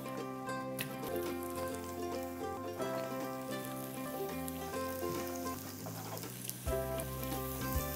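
Onions sizzling as they fry in a pan while lamb is being cooked, a steady crackling hiss heard under background music.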